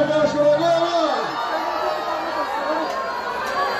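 A crowd of Vasco da Gama football supporters cheers and shouts in a broad, steady roar with whoops, loud and sustained throughout, with a tonal hum fading in the first second.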